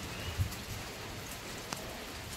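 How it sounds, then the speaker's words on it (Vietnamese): Steady rain falls over a flower garden behind a house in Vietnam's Mekong Delta on an afternoon, a soft continuous hiss with a couple of brief thumps, no talking. "Thì đang mưa"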